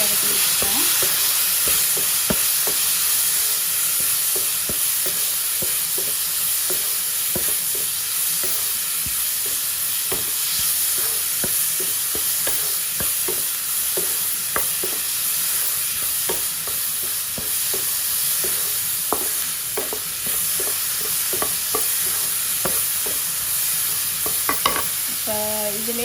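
Continuous sizzling and frying of onions and tomatoes in a pan, with frequent clicks of a spoon stirring through the food, steady and close.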